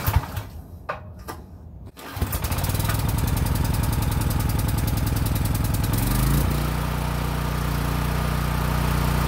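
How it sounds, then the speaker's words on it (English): A portable generator's small engine is pull-started with a few recoil-cord tugs, then catches and settles into a loud, steady running drone that continues to the end. "So now we're gonna pull the starter and see if we can get her to fire up."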